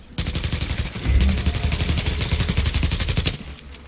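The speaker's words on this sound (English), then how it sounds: "Yeah, shoot them right now." Rapid automatic gunfire while shooting enemies in the video game The Division, a loud, close, unbroken burst of evenly spaced shots lasting about three seconds before stopping abruptly.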